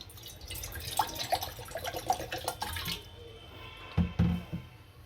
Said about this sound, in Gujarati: હવે આમાં એક કપ પાણી નાખશું